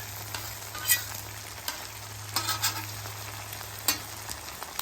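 Breakfast food fries on a Blackstone flat-top griddle, giving a steady hissing sizzle with a few brief scraping stirs and a low hum underneath.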